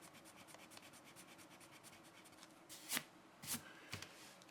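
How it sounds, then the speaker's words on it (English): The eraser on a Mitsu-Bishi 9850 pencil rubs back and forth over pencil marks on paper in quick, close scrubbing strokes, ending with a few louder swipes. "Now let's take a look at how the erasers work on the pencil here."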